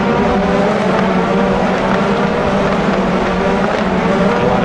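Race cars roar at speed around the Sebring circuit during the opening lap of an 80-minute international round, a dense, continuous engine drone that stays loud and steady throughout with no gaps.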